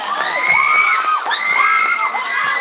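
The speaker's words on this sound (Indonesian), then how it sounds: "Tepuk tangan sekali lagi dong untuk SMA Negeri 7 Palembang" A young crowd at a school talkshow competition cheers for SMA Negeri 7 Palembang, with shrill whoops and shouts rising and falling in quick waves, loud and close.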